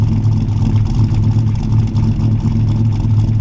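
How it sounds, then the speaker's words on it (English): A Ford 351 V8 engine in a 1940 Ford pickup idling with a deep, throaty exhaust burble through Flowmaster mufflers, loud, close and steady. "You can hear those Flowmaster mufflers."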